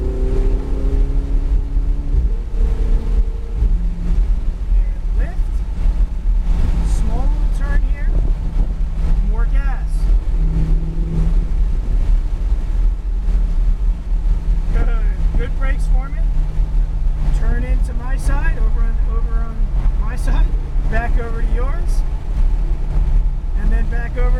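A Ferrari 488 GTB engine pulls hard on track at Nelson Ledges, a steady loud roar from inside the cabin with wind buffeting, rising and shifting through gears while an instructor talks over it.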